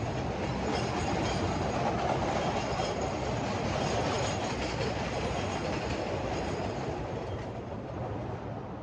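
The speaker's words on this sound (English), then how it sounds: "there's another train going by" A train rumbles past at a moderate distance with a continuous low roar and rattling wheels on the track, steady throughout.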